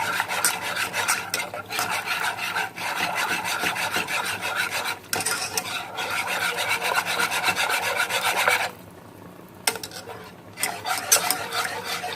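A whisk or spoon scrapes briskly and continuously around a pan as hot milk is stirred into béchamel sauce, a rapid rhythmic rasping with a few short pauses, close up and without talk.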